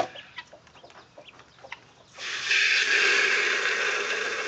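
A hen with young chicks: soft scattered clucks and peeps at first, then a sudden burst of louder, continuous agitated bird calling that keeps going to the end, fairly close.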